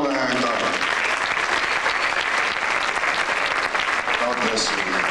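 A church audience at Summer Sing 1998 in Nassau, Bahamas, breaks into loud, sustained applause during a music honors presentation, with a voice speaking over the clapping.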